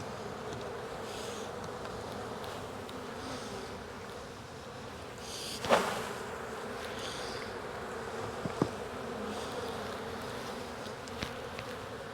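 Steady, dense buzzing of many honey bees on a hive frame fills the whole stretch, close by, with a brief louder thump midway and a couple of faint clicks.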